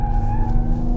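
Exhaust of a Mercedes-AMG GT43 4-door coupe under way, a loud steady engine drone with strong low tones, close and continuous, no talk.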